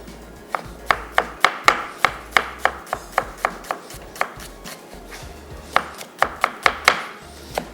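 A knife dices an onion on a board in quick, evenly spaced sharp chops, about two dozen close thuds in two bursts with a short pause between, no voices.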